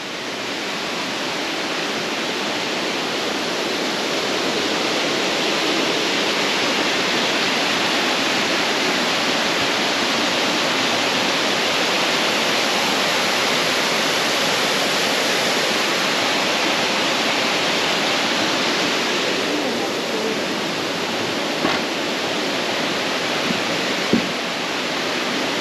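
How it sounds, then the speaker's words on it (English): Waterfall along the Pipiwai stream trail on Maui, a steady, loud broadband rush of falling water that holds constant throughout, close by and without talk. "But there is a waterfall here."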